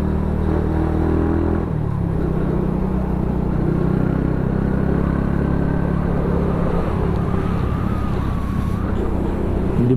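A Honda motorcycle fitted with big tires and loaded with cabbages labors up a steep, potholed mountain road on the La Trinidad route, its engine droning and straining loudly at close range, the pitch shifting as it climbs.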